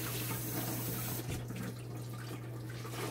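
Cold tap water runs steadily into a kitchen sink as a tea towel is wetted, a continuous faint splashing hiss that shifts in tone partway through, with a low electrical hum beneath.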